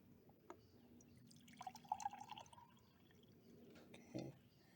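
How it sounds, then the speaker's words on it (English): Distilled water is poured from a bottle into a clean glass, a faint trickle and splash of liquid with a brief louder burst near the end, heard in a quiet room. "I'm going to pour the distilled water into a"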